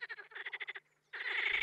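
Frogs croak in a spring mating chorus in the flooded floodplain pools of the Volga delta. Rapid pulsed trains of loud, close calls break off for a short pause and then resume in a denser burst.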